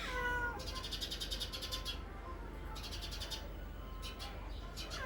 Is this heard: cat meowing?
yes